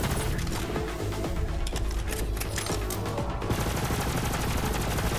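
Sustained gunfire aimed at a giant tree monster in Borderlands 3: rapid machine-gun bursts rattling steadily and loudly, dense overlapping shots with mechanical clatter throughout.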